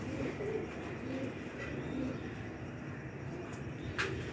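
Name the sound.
pigeons cooing, Sherkoti pure pair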